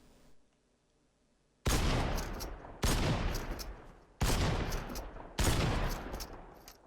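Assault rifle fire in the game Fortnite sounds in four loud, sharp bursts roughly a second apart, each ringing out and decaying before the next, preceded by near silence.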